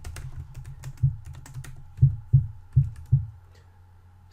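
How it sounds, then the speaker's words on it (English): Someone types on a computer keyboard, a string of light, uneven keystrokes broken by a few harder key presses, close by with no voices. "I'll just type in something there"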